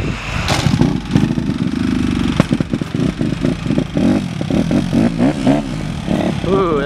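A Honda CRF150R dirt bike engine runs at a rough idle close by, with its uneven chugging putting out a steady mid-range drone. A few louder bursts rise over it, and people talk on top of the engine the whole time.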